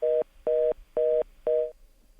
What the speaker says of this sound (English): we are having some problem with the connection. We don't have Madhya on the phone